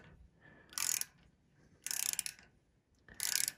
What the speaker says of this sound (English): So now we're tightening the gib.